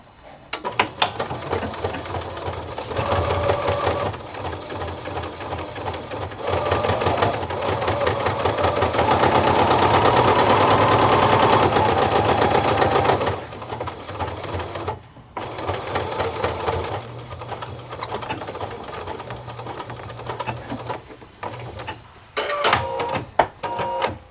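Sewing machine with a flat felling foot stitching cloth napkins, a steady rapid mechanical whir running in long bursts, loudest and continuous in the middle, with short pauses and handling clicks between runs.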